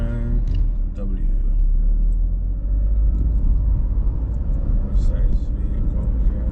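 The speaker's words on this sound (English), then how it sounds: "construction vehicles right here on US 9W." Construction vehicles drive along US Route 9W through Storm King State Park, New York, giving a heavy, continuous low rumble of engines and road noise close by, with a voice talking over it.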